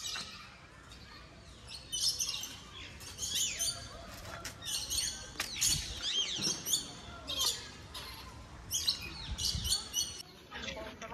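Birds in an aviary at Assam State Zoo chirp and tweet in quick, bright bursts throughout, with several calls overlapping at close to moderate distance over a low background murmur.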